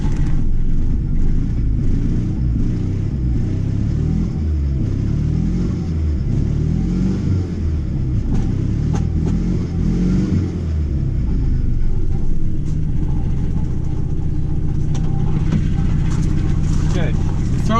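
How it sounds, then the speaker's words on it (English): A Chrysler TC 16v engine, slow to rev up, runs with a loud, close, rumbling drone that climbs slowly, with talking over it. "Throttle linkage is fine, it's just doesn't rev up very fast."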